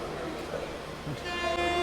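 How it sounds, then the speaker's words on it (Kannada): A special train sounds its horn at SMVT railway station in Bengaluru during the festival season, a short tonal blast rising near the end over busy platform noise and crowd chatter. "ಸೊ ಇದು ನಿಮಗೆ ಹಾರ್ನ್ ಇರುತ್ತೆ ಅದು ನಮ್ಮ ಸ್ಪೆಷಲ್ ಗಾಡಿ ಇದೆ"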